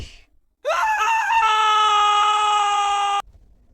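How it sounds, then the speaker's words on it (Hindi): A single long, high-pitched scream rings out loud and sustained for nearly three seconds, then cuts off abruptly. "मैंने नीचे से किसी के चीखने की आवाज सुनी।"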